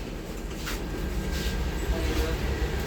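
Interior of a third-class passenger carriage on the Yarl Devi train, a steady loud rumble of the moving train filling the whole stretch, with faint voices mixed in.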